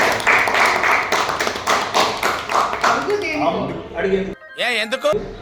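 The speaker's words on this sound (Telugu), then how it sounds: "ముందు కొట్టండి క్లాప్స్" A crowd claps in quick, loud bursts for a few seconds at a film team interview, then the applause fades as people begin talking.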